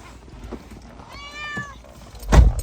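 A pet cat lets out a drawn-out, complaining meow at close range, framed by faint shuffling and ending in a sharp thump of handling noise.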